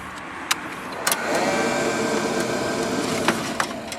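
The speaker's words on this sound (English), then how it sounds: "I heard a bit of a whine from the motor there temporarily, and it went off immediately." Electric motor of a Wallstar unit whining briefly at power-up, a rising hum that swells, holds for a couple of seconds and fades, close by, with a few sharp clicks and knocks around it.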